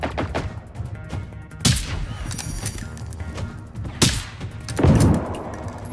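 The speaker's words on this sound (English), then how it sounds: "Launching grenades at it" Grenade launcher firing in the video game Generation Zero, with a few loud, sharp blasts spaced apart over steady game noise, the last one followed by a heavier rumbling explosion.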